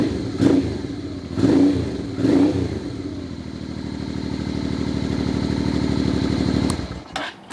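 A Honda NT650 GT Hawk motorcycle engine, its idle set a little high, blips through three short revs and then settles into a steady, close rumbling idle before cutting off at the end.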